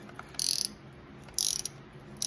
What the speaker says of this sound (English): I got an extra long ratchet wrench